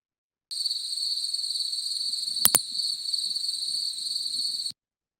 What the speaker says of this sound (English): There's just one little double click in the middle of that little sound bite, and that was a pallid bat.